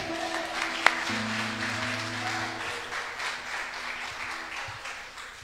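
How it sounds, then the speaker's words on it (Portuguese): A church congregation claps in praise, a soft, diffuse patter of many hands that runs steadily beneath sustained organ or keyboard tones, with one sharp knock early on and a gradual fade toward the end. "E a igreja aplauda ao Senhor"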